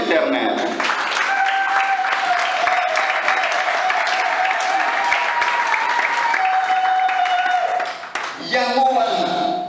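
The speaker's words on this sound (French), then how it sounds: "Applaudissons l'Éternel." Sustained applause from a church congregation in Congo, steady and loud throughout, with voices and shouts mixed in over the clapping and a brief dip near the end.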